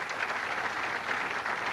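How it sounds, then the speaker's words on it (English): Crowd applauding steadily throughout at a 1991 Goldpin Classic stepladder final tenpin bowling match between Lovell and Allsopp, a dense, even wash of clapping with no talk over it. "And the crowd's starting to warm up."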